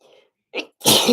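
A quick inhale followed by a loud, close sneeze bursting out at the end, with a faint breathy sound at the start.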